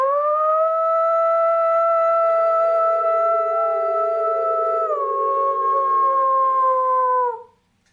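A man imitates a wolf howl with his voice, a long sustained tonal wail that holds steady for several seconds, drops slightly in pitch near the end and then fades out, loud and close.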